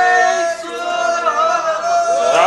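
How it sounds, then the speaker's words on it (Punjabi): A gathering at a Sikh gurdwara roars out a jaikara, a sustained chorus of many voices shouting together loudly and close for the full few seconds. "ਜੈਕਾਰਾ ਲਾ ਕੇ ਇਸ ਗੱਲ ਨੂੰ ਪ੍ਰਵਾਨ ਕਰੀਏ।"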